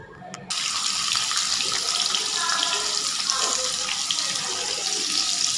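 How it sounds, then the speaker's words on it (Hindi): Paneer shallow frying in oil makes a steady broadband sizzle and hiss that starts abruptly after a brief click and stays loud and close throughout. "इसलिए मैं इसे सैलो फ्राई करूँगी ऑयल में"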